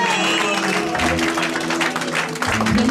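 A church congregation at a wedding applauds in a steady, fairly loud wash of clapping, with a voice briefly audible amid the applause.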